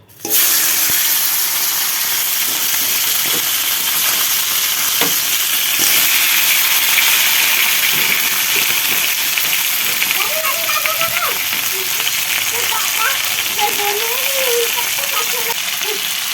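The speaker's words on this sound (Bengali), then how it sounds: "এবার আমি কাঁকড়াগুলো ভেজে নেব" Crab pieces fry in a hot pan with a loud, steady, unbroken sizzle that sounds close and fills the whole stretch.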